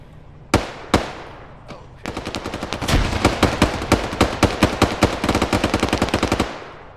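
Gunfire exchange in Syrian combat, opening with a few sharp isolated shots, then sustained rapid automatic bursts, loud and close, ending abruptly.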